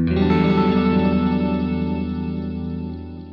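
An electric guitar runs through a delay pedal with subtle modulation, playing one loud sustained chord that shimmers with a wavering chorus-like swirl and echoes, slowly fading over a few seconds without any talking.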